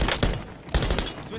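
Gunfire in Call of Duty: Warzone, a short burst of dense, rapid shots with a crackling, noisy texture, loud and close.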